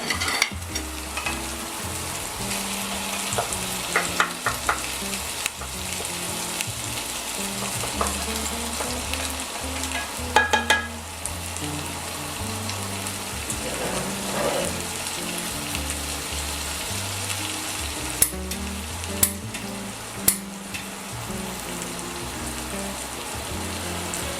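A monkfish tail sizzles and fries steadily in a pan for an Armoricaine dish, a loud continuous crackle with occasional stirring clinks and sharp taps, close up and without talk.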